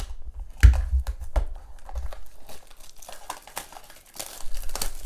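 A 2020 Topps Chrome baseball blaster box is torn open, with close crinkling foil wrapper, cardboard tearing and scattered crisp rustles.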